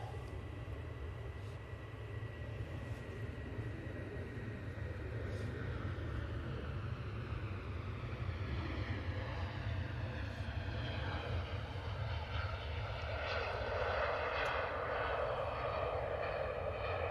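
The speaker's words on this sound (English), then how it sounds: "Tui on the roll" A TUI airliner accelerates down the runway on its takeoff roll, a steady distant jet engine rumble building gradually with a rising whine, heard alone without talk.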